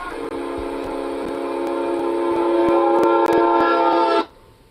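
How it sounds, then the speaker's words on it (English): A train horn blares loud and close in one long sustained tone lasting about four seconds, then cuts off abruptly into quiet. "Those train horns are meant to be heard for miles."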